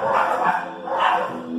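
Female dogs bark and yip together in Cali, Colombia, two loud, drawn-out bursts close by with no one speaking.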